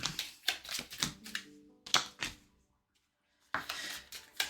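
Cards for the Astro Knights card game being shuffled, giving bursts of crisp riffling and snapping with short pauses between them, then a brief silent gap before the shuffling resumes, close and clear with no talk.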